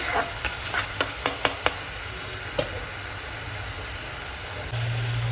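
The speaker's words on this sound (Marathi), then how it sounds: "आता आपण ह्याच्यामध्ये आलं लसणाची पेस्ट टाकूया आणि एकत्र हलवून घेऊया आपण व्यवस्थित 2 मिनिटं" Ginger-garlic paste stirred into frying onions in oil for dum aloo, opening with a quick run of sharp spoon taps against the pan, then a soft sizzle under a low steady background hum.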